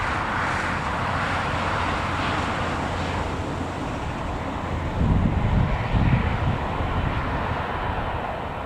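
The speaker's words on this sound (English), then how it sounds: "Emirates now about to start moving, heading down to the runway." An Emirates airliner starting to taxi toward the runway at Newcastle Airport, a steady distant engine rumble mixed with wind noise, with no talk.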